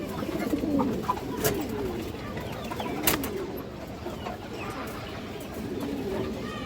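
Pigeons coo softly and repeatedly close by, with scattered sharp clicks and rustles, and someone speaks quietly in the background.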